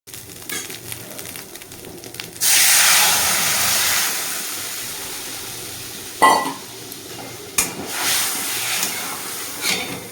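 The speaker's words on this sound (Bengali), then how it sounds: "এটা নামিয়ে দিয়ে ডালটা সম্বরা দিয়ে দিই।" Lentils are tempered in a kadai still holding hot oil from frying pointed gourd: a sudden loud sizzle bursts out, then settles into a fading hiss broken by a few sharp clinks and stirring sounds.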